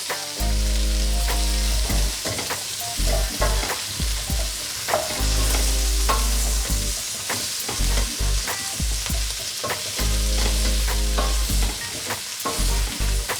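Two courgettes go into a hot pan for a Moroccan vegetable tagine, sizzling loudly up close while a utensil scrapes and clatters in repeated bursts of stirring, with brief quieter pauses between.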